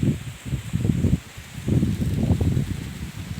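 Strong wind shakes durian trees in an orchard, making a loud, gusty rustle of leaves and branches in two surging waves against steady wind noise on the microphone, with no talking.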